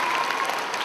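Dense applause from a crowd greeting cricketer Sanju Samson's words at a public event, steady and continuous throughout without pause.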